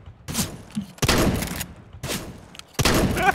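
Nova pump shotgun blasts in Counter-Strike: Global Offensive, three or four loud close booms in quick succession with brief gaps between, each with a sharp crack and short ringing tail.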